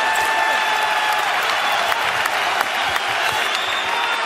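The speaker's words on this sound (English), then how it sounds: "Crowd on its feet here at the Garden." A large arena crowd at Madison Square Garden during an NBA basketball game cheers and applauds steadily, a dense continuous wash of clapping with no talk over it.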